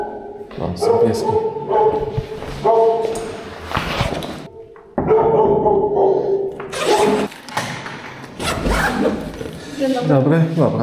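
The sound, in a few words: dogs barking in apartment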